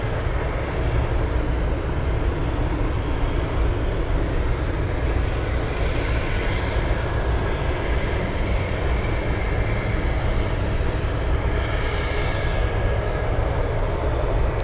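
A Boeing 747 Dreamlifter flying past at Anchorage, its engine roar a loud, steady, broadband rumble that holds constant throughout with no talk over it.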